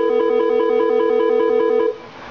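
A Cisco 7970 SIP desk phone plays a steady, pulsing electronic ringback tone up close and loud as it dials out a call, then cuts off abruptly near the end, with no talking.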